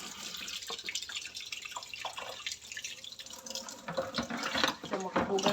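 Tap water runs and splashes while cellophane is washed at a sink, a close, uneven patter of drips and flowing water with a voice speaking intermittently.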